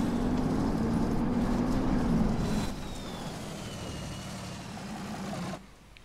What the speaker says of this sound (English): my repair vehicle is this repair truck right here